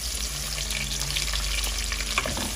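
Shrimp and onion fry together in hot oil, a loud, dense crackling sizzle heard up close with occasional stirring clicks, no voices.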